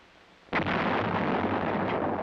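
Self-propelled 105mm howitzer fires a single loud, close blast that booms out suddenly after a quiet moment and rolls on without fading for the rest of the clip.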